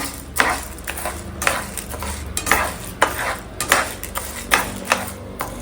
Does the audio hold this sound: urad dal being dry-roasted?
yes